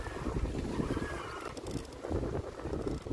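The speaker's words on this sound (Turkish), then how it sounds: "Dalga sesi, rüzgar sesi değişiyor." Gusting wind buffets the microphone over the wash of waves against a sailboat's hull near the Loma Loma and Naira islands, a continuous rough, close roar with no talking.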